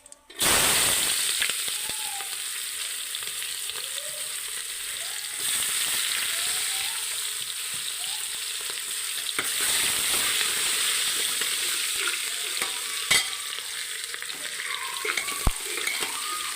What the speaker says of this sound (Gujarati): हवे आमां डूंगળी नाखी देशुं।